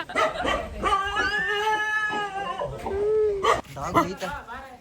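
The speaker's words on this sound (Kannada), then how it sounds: "ಡಾಗ್ ಈ ಥರ ವೆಲ್ಕಮ್ ಮಾಡ್ತೈತೆ ನಾವು" A pet dog whimpers and howls in greeting at a home, with long wavering cries and a few yips close by, and people talk briefly around it.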